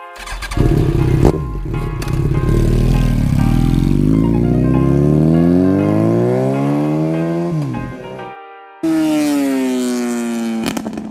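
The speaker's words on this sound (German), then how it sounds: "Ich habe so ein schönes kleines Motorrad hier." A small motorcycle engine runs close by, its pitch rising steadily through a long rev, then dropping off. After a brief break it returns running at a high, steady rev.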